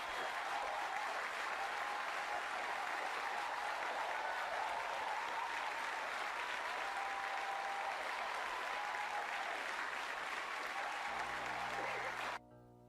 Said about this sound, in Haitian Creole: Nous avons applaudi Sœur Béatrice Joseph.